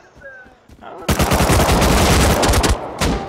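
AK rifle fire in a video game erupts as a loud, close burst of rapid automatic shots lasting about two seconds, with a brief pause and a few more rounds, after a quiet moment with faint electronic tones.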